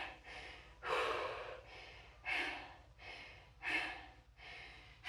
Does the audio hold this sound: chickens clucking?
no